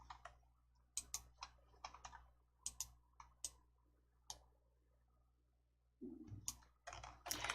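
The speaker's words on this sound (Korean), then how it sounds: "위쪽에 단 아이콘을 클릭해 주세요" A computer mouse clicks on an icon in a word-processing program, heard as a scattering of sharp, quiet clicks and keyboard-like taps spaced irregularly, with a brief shuffling rustle near the end.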